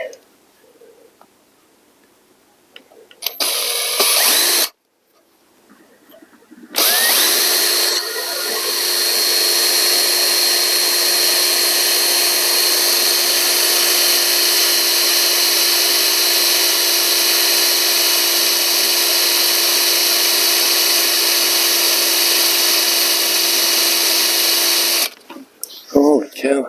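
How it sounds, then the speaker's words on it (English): A power drill bores steadily into a hardened steel pedal on a 2018 Porsche Macan GTS during a Rennline pedal install, a loud continuous whine with a sustained tone running about eighteen seconds after a few short starts, then stopping. "after a ton of drilling to get this pedal on, because it's definitely hardened steel"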